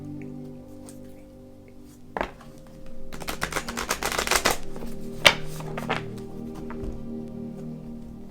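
Oracle cards being shuffled, with a soft thump and a flurry of rapid riffling clicks in the middle, then a few single snaps as cards are drawn, close and fairly quiet.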